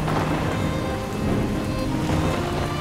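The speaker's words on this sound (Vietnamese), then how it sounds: "Đùng cái thích mưa là mưa." Heavy rain pours down steadily, a loud dense patter on surfaces with a low rumble beneath, no voices.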